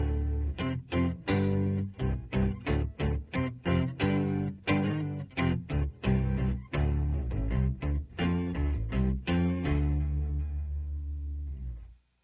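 Electric guitar through a Micropog octave pedal set to sub-octave only with no dry signal, giving a deep bass-like tone; a steady run of plucked notes plays alone, then one final note rings out and fades.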